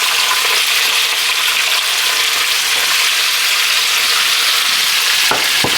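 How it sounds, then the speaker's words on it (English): Onion and carrots fry loudly in a hot pan with garlic, a dense, steady sizzle close up with a brief clatter near the end and no talking. "Gonna go in with some onion. And some carrots."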